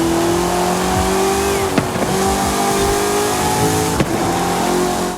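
The Forza Horizon Flip Car's 7-liter naturally aspirated V8 revving in a racing video game, a loud sustained engine drone rising in pitch with two brief gear-shift breaks, close and continuous without talk.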